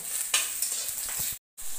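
Boiled bitter gourd slices coated in salt and turmeric sizzle steadily in hot oil, with a few stirring scrapes before a brief cut to silence and the frying resumes.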